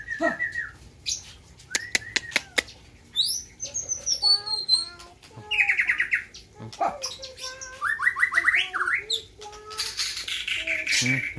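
A white-rumped shama (murai batu) at a bird-song contest sings loud, varied whistles, rising sweeps and rapid chattering phrases close by, with brief pauses between bursts.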